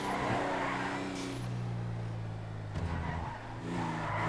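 Video game car, a Parati in modded GTA V, accelerating: a steady engine drone with rising and falling tonal revs and a brief shift dip, continuous and moderately loud with no talk.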